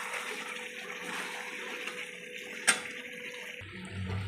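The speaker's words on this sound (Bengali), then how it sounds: "এবার আমি জল দেবো" Water poured into a pan of yogurt chicken curry after the meat has been browned in oil: a steady, close rushing splash with one brief clink midway, easing off at the end over a low hum.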